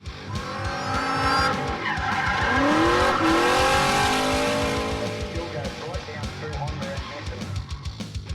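Talbot Sunbeam hatchback sliding in a drift in the video game Forza, a revving engine with long wavering tire squeals rising and falling, loud and close, and a voice talking over it.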